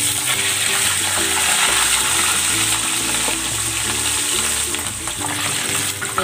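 Chicken frying in hot oil for Chinese-style fried chicken, a steady dense sizzle and crackle running continuously and fairly loud throughout, close up with no talking.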